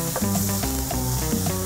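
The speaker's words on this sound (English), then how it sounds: "Start by getting some olive oil in the pan here. Add our aromatics, our sofrito, garlic, onions, some sweet peppers." Garlic, onion and sweet pepper sofrito sizzling in olive oil in a pan, a steady close frying hiss with a few light stirring scrapes, loud and continuous with no talking.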